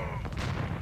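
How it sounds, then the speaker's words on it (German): Cannon fire from Age of Empires II, a dense, loud booming blast that fills the whole short moment with no talk over it. "Jungs, das klingt absolut nach Kanonen."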